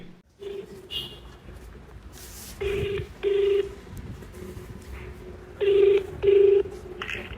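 Phone call being placed: a few short dial tones, then a repeating ringback pattern of paired rings with pauses, moderately quiet over a faint background.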